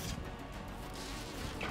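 Mosquito buzzing in the video game Grounded, a steady close insect drone that continues throughout at moderate level.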